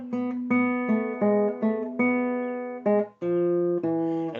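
A short plucked guitar melody from the Turkish song Üsküdar'a Gider İken, single notes stepping up and down in a dotted rhythm, clean and close with no voices.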